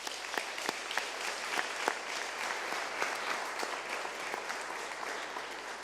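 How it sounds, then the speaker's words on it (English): An audience at a NATO Secretary General event applauds him with dense, steady clapping that holds for the full stretch without speech, with a few sharper claps standing out near the front. "I would ask everybody to join me in applauding Secretary General."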